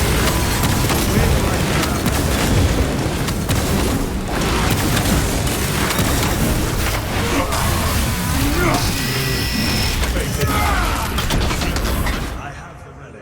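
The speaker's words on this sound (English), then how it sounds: "Throwing frag grenade!" Loud, dense combat din from Warhammer 40k Space Marine 2, a frag grenade blast among continuous booms and gunfire that fills nearly the whole stretch before tapering off at the end.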